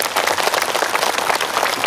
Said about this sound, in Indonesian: Tepuk tangan untuk Pertamina.